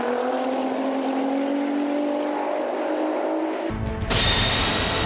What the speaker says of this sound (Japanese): でそこからアクセルを開けていって、でギアをどんどんどんどんつないでいく。